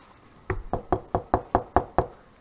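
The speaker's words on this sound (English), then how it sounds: "knock, knock, knock on the front door of the house" Knocking on the front door of a house: eight firm, evenly spaced raps in a quick steady rhythm, close and loud against a quiet background, with no voices.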